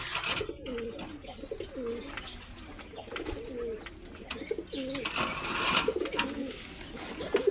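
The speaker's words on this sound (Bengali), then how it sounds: "আমি অনেক বেশি পছন্দ করি এই কবুতর জোড়াকে" Several Teddy and Dabwale pigeons, pairs sitting on eggs, coo in repeated low throaty phrases close by, with sharper chirps and rustling scattered throughout.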